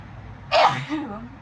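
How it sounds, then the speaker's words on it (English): A single sharp sneeze from a person indoors, close and loud, trailing off into a brief breathy vocal sound. "I'm like sneezing up a storm."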